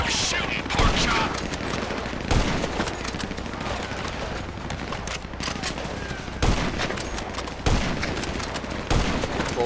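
Sustained gunfire from the video game GTA V, dense bursts of automatic shots and fusillades with several sharper loud cracks standing out, running through the whole stretch with game voices mixed in.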